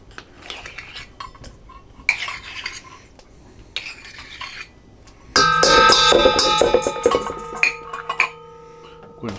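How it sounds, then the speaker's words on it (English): A spoon stirs a sour cream mixture for Mexican street corn, making intermittent clinks and scrapes against a bowl, then a louder burst of ringing metallic clatter halfway through. "Go ahead and stir that stuff around."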